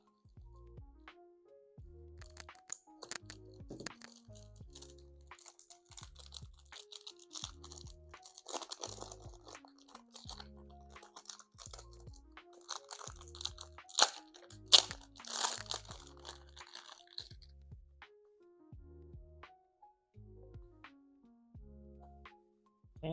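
Packaging of a GCD Toyota Sequoia TRD Pro diecast toy car is opened, with close crinkly crunches of plastic and cardboard, rapid rustling bursts and soft thumps continuing steadily throughout, louder in the middle stretch.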